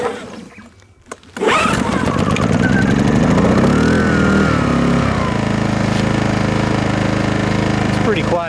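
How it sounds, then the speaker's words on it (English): A Yamaha EF1000is portable generator with its choke on, pull-started after a quiet moment and then catching into a steady, loud close running drone that holds evenly to the end. "It's a pretty quiet little generator."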